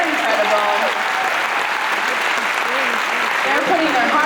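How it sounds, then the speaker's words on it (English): Sustained applause from a pageant audience for the contestants at the Miss Wisconsin competition, steady and dense throughout with crowd voices and cheers mixed in. "I'd like to just give a round of applause for the ladies"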